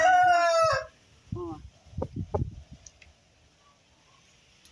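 A young rooster, a caipira and Indian game crossbreed, crows once loudly up close, followed by a few short clucks and clicking sounds; someone says a brief word.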